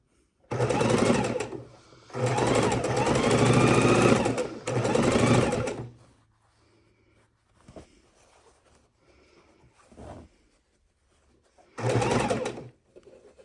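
A sewing machine stitches quilt fabric in three loud, fast bursts close by, pauses into near quiet with faint handling noises, then runs briefly once more.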